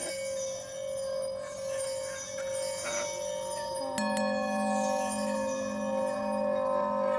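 Small bells ring with sustained, shimmering tones that overlap, a fresh strike joining partway through, clear and close with no talking.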